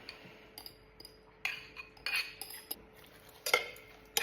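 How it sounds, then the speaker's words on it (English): Chopped meat and cheese being stirred in a bowl with crunchy ingredients, giving intermittent close clinks and scraping knocks of a utensil in uneven bursts, with quiet gaps between. "We're gonna give that a good stir in."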